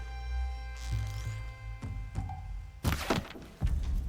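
An arrow shot in Horizon Zero Dawn strikes a totem, giving a dull thunk among several thuds and impacts over game sounds, with a louder burst of impacts near the end.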